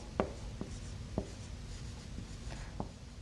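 Handwriting scratches and taps on paper: a few distinct pen strokes and ticks over soft background hiss, close and fairly faint.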